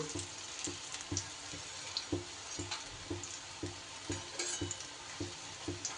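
Lentil fritters (bora) made with mashed taro and potato crackle and sizzle in hot oil, a constant close frying hiss with regular soft knocks from turning or stirring, and no voices.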